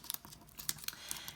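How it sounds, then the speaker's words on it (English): Paper is crumpled into the centre of a handmade flower craft, producing quiet, close crinkling and crackling bursts in an irregular patter. "crumple up our paper into the center like so. Give it a nice crumple."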